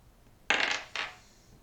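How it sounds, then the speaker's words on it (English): Plastic 10-sided dice clattering onto a table, two quick rattling bursts close by, the second shorter, with nobody talking. "Roll the 10-sided dice, and then let me know what you roll."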